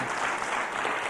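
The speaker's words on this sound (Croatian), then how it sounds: "give them an applause" Audience applause greeting first-time attendees at a meeting, dense steady clapping filling the short moment at close range, with no voices over it.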